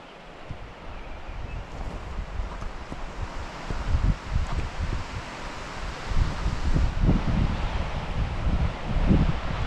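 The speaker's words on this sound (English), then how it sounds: "So you can hear the wind coming up through the bottom valley and whisking up here." Wind gusting up from a valley floor into a wooded spot, a steady broad rush that swells louder in surges, with leaves rustling nearby and no talking.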